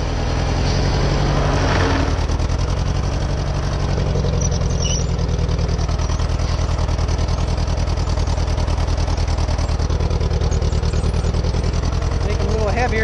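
A tractor engine pulls a plow through a wet field, its steady loud drone running throughout with the throttle opened up, a low rumbling roar that stays strong and continuous for the whole stretch.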